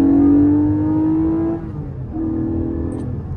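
A Porsche sports car engine accelerates while driving, a loud close-up growl that climbs in pitch, eases briefly after a gear change, then pulls again.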